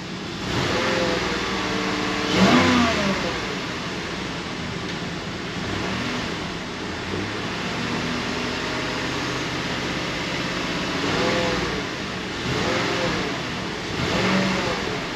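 Cadillac Northstar V8 with a P0300 misfire, revved with throttle blips: a steady idle rises in a few short surges, the clearest near the start and a cluster toward the end, with fan-like hum underneath.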